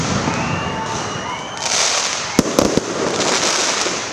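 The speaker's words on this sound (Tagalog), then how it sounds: "fireworks display." Fireworks crackle and pop with a few sharp bangs during a religious procession honoring the Santo Niño image, a dense hissing wash with clustered loud reports.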